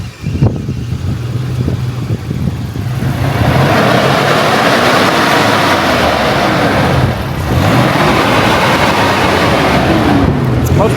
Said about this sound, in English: It's revving past 3 now.